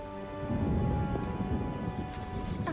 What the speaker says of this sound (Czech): To je ale slejvák.